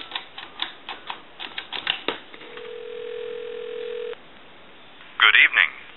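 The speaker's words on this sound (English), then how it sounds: "We have a line out now. Give you some dial tone." Rapid clicks give way to a steady telephone dial tone lasting about two seconds, followed by a short burst of dialing tones, on a Northern Electric three-slot touch-tone payphone.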